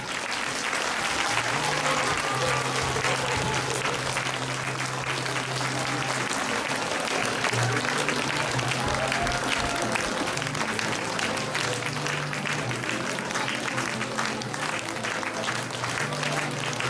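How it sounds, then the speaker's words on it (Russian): Sustained, loud applause from a theatre audience for eight-year-old child dancers of a dance studio on stage, steady dense clapping throughout with crowd noise and some voices underneath. "Аплодисментами поддержите их."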